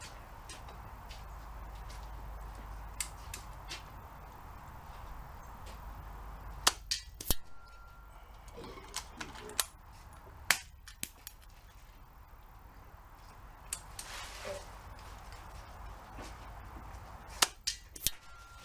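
A Hatsan Gladius .22 air rifle, fitted with a replacement barrel, fires pellets outdoors: a series of sharp, fairly quiet cracks scattered irregularly, some in quick pairs, over steady low background noise.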